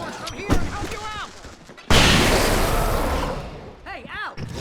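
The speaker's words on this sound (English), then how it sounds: "I can set off more of the fireworks from here and help you out!" Fireworks exploding in the video game Alan Wake Remastered, a sharp bang followed by a long crackling burst that fades, with whistling streaks rising before and after.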